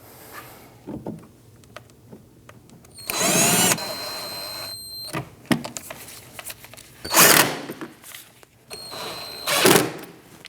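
Power drill driving T25 screws while a rear shock absorber is fitted on a 2009-2017 Audi Q5, three loud whirring bursts with pauses and small clicks and clanks between them.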